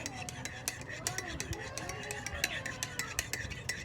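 A spoon clinks and scrapes rhythmically against a glass while stirring powdered cow's milk, quick repeated taps close by, with a voice talking over the stirring.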